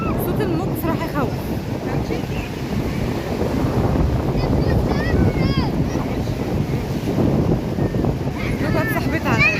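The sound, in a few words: high sea waves on the beach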